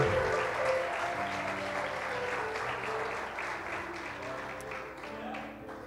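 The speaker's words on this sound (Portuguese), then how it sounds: "aplauda o Senhor Jesus, amém" Church congregation applauding during a worship service, a steady, dense wash of clapping that fills the whole stretch at even loudness, with faint voices mixed in underneath.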